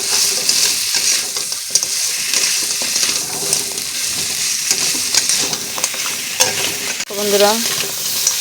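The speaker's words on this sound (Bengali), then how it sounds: "এখন আমি কাঁকড়া মাছগুলো দিয়ে দেবো। দিয়ে একটু কষিয়ে নেব।" Crab pieces frying and being stirred in a spice masala for a Bengali crab curry, with a steady loud sizzle, scraping stirs, and a brief voice near the end.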